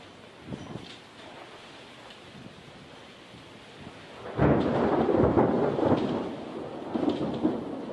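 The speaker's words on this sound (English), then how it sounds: "Let's get another lightning clap." Rain patters quietly during a storm in Tucson, Arizona, then a loud thunderclap booms and rumbles on, with a smaller burst near the end.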